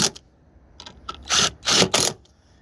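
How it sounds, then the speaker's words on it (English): A 10mm socket tightens the 10mm bolts holding a passenger taillight on a 2017 Nissan Rogue, heard as a few short, crisp mechanical ratcheting bursts close by after some faint clicks. "let's go ahead and secure that down with a 10mm socket"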